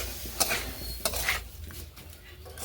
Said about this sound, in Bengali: একটুখানি জল অ্যাড করছি জল মিশিয়ে নেড়ে নিচ্ছি